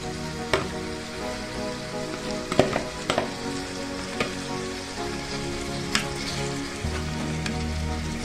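Vegetables sizzle steadily in a hot pan, with occasional sharp pops and the scrape of stirring, close and continuous with no talking.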